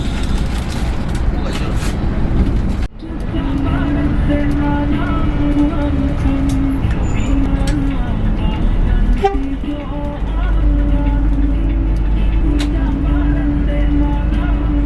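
Interior of a Volvo B11R coach on a long trip from Sorowako toward Makassar over rough roads, a loud continuous engine drone and road rumble with a sharp knock partway through and faint tonal whine.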